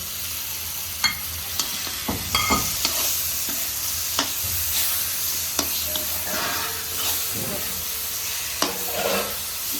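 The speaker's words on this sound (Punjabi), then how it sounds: "ਹੁਣ ਆਪਾਂ ਇਹਨਾਂ ਨੂੰ ਕਰਾਂਗੇ ਮਿਕਸ ਚੰਗੀ ਤਰ੍ਹਾਂ ਹੁਣ ਆਪਣਾ ਮਸਾਲਾ ਚੰਗੀ ਤਰ੍ਹਾਂ ਭੁੱਜ ਗਿਆ ਹੈ" Masala for baingan bharta stirred and frying in a pan, a steady loud sizzle with repeated scraping clicks of the spoon against the pan, no talking.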